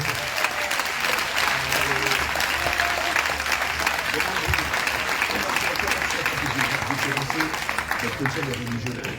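A church congregation claps and acclaims in praise, a dense continuous wash of applause and crowd voices, loud and sustained, with a speaker's voice running over it.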